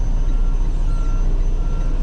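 A transfer truck loading freight sounds a steady, repeating reversing beep over a constant low engine rumble, heard fairly close.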